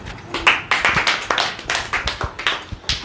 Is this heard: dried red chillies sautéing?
no